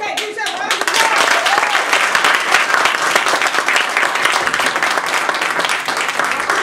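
A Toastmasters speech contest audience claps loudly and steadily for several seconds, a dense wash of many hands close by after a voice fades out.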